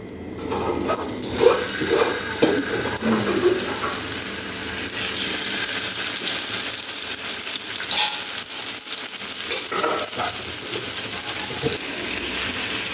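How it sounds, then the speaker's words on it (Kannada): Marinated fish frying in oil on a hot tawa, a soft continuous sizzle with a few clatters and scrapes near the start, then settling into an even hiss. "ಮ್ಯಾರಿನೇಟ್ ಮಾಡ್ಕೊಂಡು ಇಟ್ಕೊಂಡಿದ್ವಲ್ವ ಫಿಶ್ನ ಇವಾಗ ಫ್ರೈ ಮಾಡಬೇಕು"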